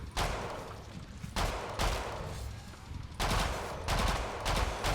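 Repeated bursts of automatic gunfire from the Killing Floor 2 shooter game, several loud sustained volleys separated by brief pauses, with no voices over them.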